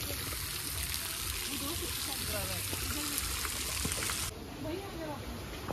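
Water streams steadily from an elephant-shaped fountain at a lotus pond in Saheliyon ki Bari, Udaipur, a continuous splashing trickle that runs throughout, with someone talking over it.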